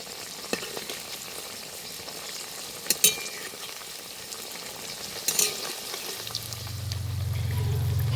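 Rolled potato and wheat-flour snacks frying in oil, giving a continuous bubbling sizzle with a few sharp utensil clicks and a low hum rising near the end.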